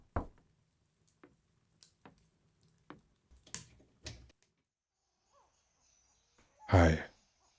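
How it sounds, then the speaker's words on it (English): Knocks on a door late at night, a series of sharp single raps spaced apart at moderate distance in a quiet room, followed by a louder brief thump or rustle near the end. "Who'd be knocking at my door at this time of night?"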